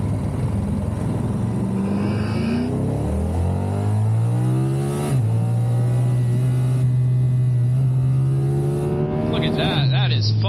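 Triumph Tiger 1200 Rally Pro adventure motorcycle accelerating on a road, heard from the rider's position: engine pitch climbing steadily through several gear changes, loud and continuous over wind noise.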